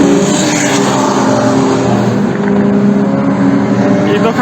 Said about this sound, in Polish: Patrzcie, do jednego zakrętu się 4 samochody zbliżają.